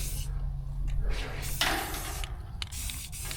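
Spray gun laying a thin coat of paint onto a Suzuki Samurai chassis, a continuous hissing spray that breaks off into short bursts, near and moderately loud, no talk.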